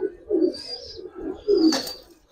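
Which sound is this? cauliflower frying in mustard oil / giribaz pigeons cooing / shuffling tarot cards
giribaz pigeons cooing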